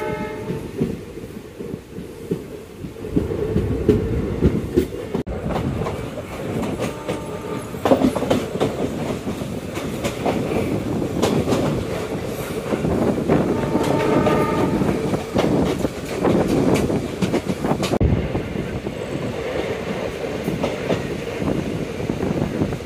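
A passenger train runs between Sengottai and Tirunelveli, its steady rumble and rattling wagons filling the whole stretch, with clicking wheels and a brief horn blast heard along the way; no one talks.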